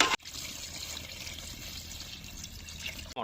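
Water being poured into a pot of mutton curry as it cooks, a steady splashing trickle that runs unbroken for about three seconds at close range, with no talk over it.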